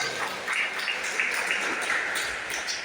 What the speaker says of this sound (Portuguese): Bate palmas, dá glória a Deus.